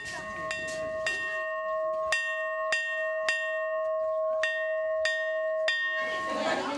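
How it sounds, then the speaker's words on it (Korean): A hand bell rings a series of clear, evenly spaced strikes at a kindergarten, signalling the start of a music class for about twenty young children, each ring sustaining with bright overtones. "남편의 종소리를 신호로 아내의 수업이 시작됩니다."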